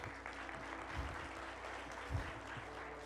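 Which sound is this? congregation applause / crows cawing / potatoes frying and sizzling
congregation applause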